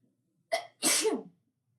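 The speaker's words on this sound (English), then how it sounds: "I have to sneeze." A single close sneeze: a short sharp intake followed by a loud, breathy explosive burst, alone in an otherwise quiet room.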